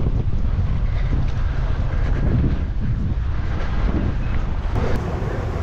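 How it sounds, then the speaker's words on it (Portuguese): Steady wind on a sandy beach buffets the microphone with a constant low roar, loud and unbroken throughout. "Tá ventando um pouco, né?"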